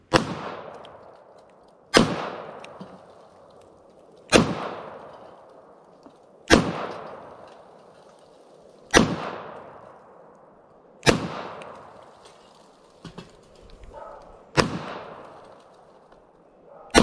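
Hi-Point .40 S&W pistol firing hollow point rounds, eight sharp loud shots spaced roughly two seconds apart, each with a short ringing decay and no talk.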